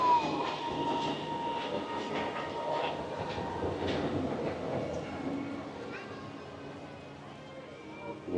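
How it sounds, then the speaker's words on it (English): A Disney monorail train at EPCOT glides past with a steady rumbling hum and faint rail noise, fairly close then gradually receding, amid light park ambience. "so good timing on Monorail Green going by here."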